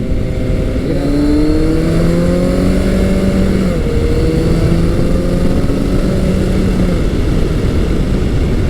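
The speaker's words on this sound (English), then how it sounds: "This bike has that fearsome 1200cc motor" A 1986–1988 Yamaha FJ1200 sport motorcycle with a 16-valve 1200cc engine revs steadily, its tone rising and falling over a continuous loud, close drone with no voices.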